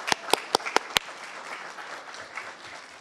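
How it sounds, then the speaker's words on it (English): An audience at a City of Miami Gardens council meeting applauds its officers: a few sharp, close claps open, then spread into a steady, softer wash of crowd clapping. "Give it up for them."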